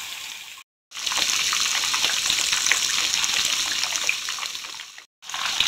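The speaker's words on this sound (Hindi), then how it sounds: "फिश को फ्राई करते हुए फ्लेम को मीडियम पे रखेंगे" Masala fish fries in a pan over a medium flame, giving a steady, bright sizzle that fills the space and stops briefly twice.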